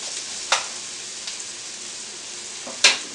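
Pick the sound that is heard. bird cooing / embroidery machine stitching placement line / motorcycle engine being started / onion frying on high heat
onion frying on high heat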